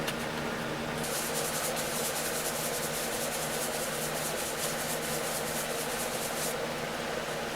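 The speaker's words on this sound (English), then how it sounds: "Buffing the bottom." Continuous loud rubbing and whirring as the bottom of a maple vase is buffed against a spinning buffing wheel, steady throughout with a slight change in tone partway.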